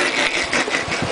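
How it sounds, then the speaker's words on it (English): A car engine runs at a steady idle during an oil change, a continuous close, even hum with no break and no talk over it. "The engine's running."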